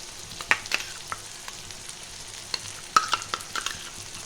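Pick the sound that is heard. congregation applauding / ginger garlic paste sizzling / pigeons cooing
ginger garlic paste sizzling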